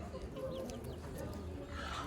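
A colorful, feather-footed village rooster at a poultry market in Karaman clucks and calls in a short, close burst over busy market background noise.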